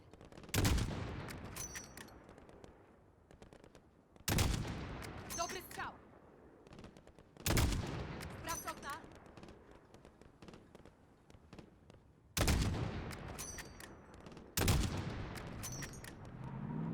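Heavy gunfire in the 2019 video game Call of Duty: Modern Warfare on PS4, with loud bursts of rapid shots recurring every few seconds and echoing tails between them.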